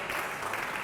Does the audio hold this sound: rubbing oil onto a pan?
no